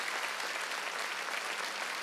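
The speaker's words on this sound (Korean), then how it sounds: "박수 좀 쳐줘요" Audience applause during a Wednesday evening church worship service, a dense, even wash of many hands clapping, continuous and fairly distant with no break.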